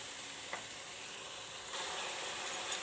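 Spices and tomato paste fry in a pan with a soft, steady sizzle and a couple of faint clicks of stirring, quiet and close.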